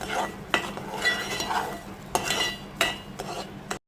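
Sugar being stirred into sheera cooked in ghee in a pan, with a spoon scraping and clinking against the metal in irregular close strokes over a faint sizzle, no talking.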